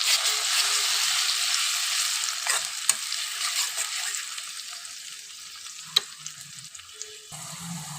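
Ground spice paste of chilli, tomato, onion and garlic hits fried onions in a pan, a bright steady sizzle that slowly fades, with a few spoon clinks and stirring scrapes near the end.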